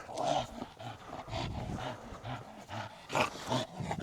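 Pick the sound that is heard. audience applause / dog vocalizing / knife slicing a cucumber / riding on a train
dog vocalizing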